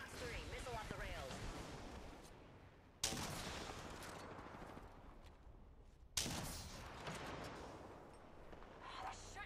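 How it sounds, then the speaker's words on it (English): Gunfire from the Apex Legends video game crackles in dense bursts, with two sharp loud onsets cutting in over a steady barrage, while game voices talk throughout. "They're shooting at me."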